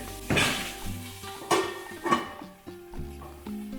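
A metal lid set onto a cooking pot gives a few sharp clanks and clatters, close and fairly loud, followed by lighter rattles as it settles.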